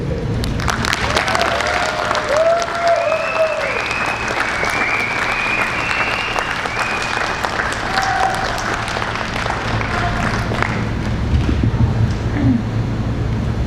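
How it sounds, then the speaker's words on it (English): An outdoor crowd applauds at a college commencement ceremony, loud continuous clapping mixed with scattered cheers and whoops, buffeted by some wind noise over the microphone. "Let's give him a round of applause."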